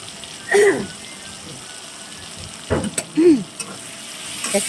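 Tomatoes with turmeric and cumin powder sizzle in a pan while being stirred, a steady frying hiss broken by a few louder scraping bursts and some faint background noises.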